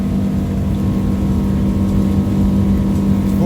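A Porsche 718 GT4 RS race car engine revs up on a circuit through rising gear changes, growing louder as it approaches at full speed, with wind buffeting the microphone.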